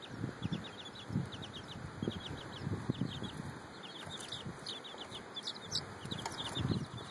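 Bantam chickens clucking in a sunny yard, a steady run of short, close clucks and chirpy calls over a low background rumble, with no talking.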